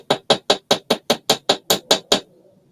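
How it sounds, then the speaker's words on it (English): A metal pendant is hammered for texture in eleven sharp, evenly spaced taps, loud and close, each a bright ringing strike, ending abruptly with a faint tail. "And to hammer it, always easy and fun."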